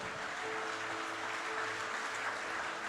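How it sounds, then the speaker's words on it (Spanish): A church congregation at a sermon applauds together, producing a steady wash of clapping that holds at an even level, somewhat distant, with no speech. "Dale un fuerte aplauso al Señor Jesucristo."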